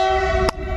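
A train sounds its horn in one steady, loud, sustained blast, heard close and alone for under a second, cut by a short break.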